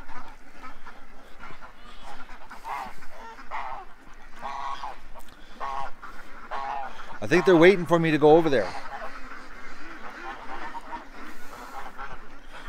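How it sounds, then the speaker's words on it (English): Short-bossed ducks quack and a goose honks in a brief loud burst near the middle, with someone talking softly before and after. "The short-bossed ducks got a goose with them this morning."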